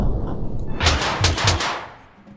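Guns fire bullets in a Totally Accurate Battle Simulator battle, a quick burst of three or four loud, close shots spaced unevenly inside a little over two seconds, with no talk over them.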